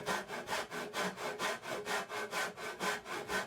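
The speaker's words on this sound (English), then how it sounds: "I do this by sawing down parallel to the face of the box" A tenon saw cuts down through excess wooden spline on a mitered box, giving steady rhythmic back-and-forth strokes, about seven per second-and-a-half, close and clear with no talking.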